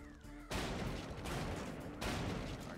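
Booming cannon blasts in the video game Family Guy: Back to the Multiverse go off in quick succession, loud and sustained, with a rolling roar of explosive fire and no voices.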